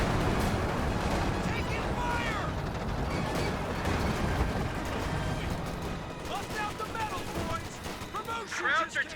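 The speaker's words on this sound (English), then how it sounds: "Mortar does connect on the Volksgrenadiers." Mortar shells striking infantry in the strategy game Company of Heroes, a rumble of impacts and gunfire overlapping the shells, loud and continuous, with someone talking over the battle throughout.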